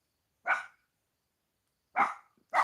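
A dog barks three times: two single sharp barks about a second and a half apart, then a third right at the end, fairly close, with silence between and no talk.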